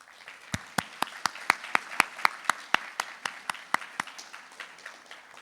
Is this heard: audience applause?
yes